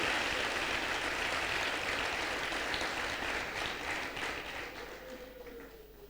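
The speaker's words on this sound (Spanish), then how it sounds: "¿Cuánto le dan un fuerte aplauso al Señor?" A church congregation claps in sustained, dense applause that holds steady and then gradually fades toward the end.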